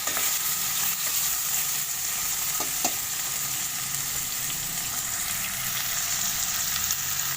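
Fish escabeche sauce, coloured with achuete, sizzles steadily in a pan, a loud, continuous frying hiss with a couple of faint utensil taps and no talking.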